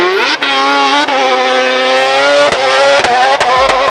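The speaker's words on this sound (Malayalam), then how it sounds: "9000 RPM വരെ പോകുന്ന ഈ വാഹനത്തിൻ്റെ എക്സോസ്റ്റ് സൗണ്ട് ശരിക്കും ഒരു മ്യൂസിക്കാണ്" Modified Mazda RX-7 rotary engine screaming through its exhaust, a loud close sustained high rev with brief gear-change dips and crackles before cutting off abruptly.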